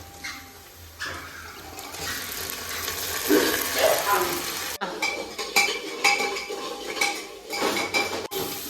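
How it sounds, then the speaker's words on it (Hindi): Chopped tomatoes go into a pan of browned onions on the stove, giving close metallic clatter of spoon against pan over a steady frying sizzle. "अब डालते हैं टमाटर।"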